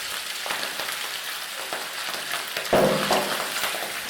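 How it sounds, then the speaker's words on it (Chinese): Marinated chicken giblets stir-fried in hot rapeseed oil sizzle loudly up close, with a burst as they are tossed and repeated scrapes and knocks of the spatula over the steady crackle. "把油烧热，随后呢就倒入腌制好的鸡杂了，翻炒均匀"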